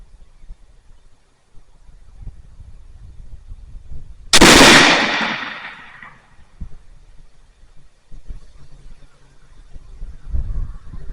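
A single loud, close gunshot at a pumpkin cracks out with a sharp burst that rings and decays over a couple of seconds, set against quiet outdoor background rumble with no talking.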